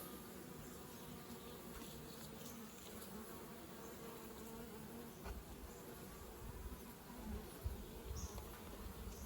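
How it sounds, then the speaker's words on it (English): Robber bees buzz around the top of a mini nuc beehive, a faint, steady swarm drone with occasional closer passes, no talking. "Might notice a few robber bees hanging around the top there as I'm working."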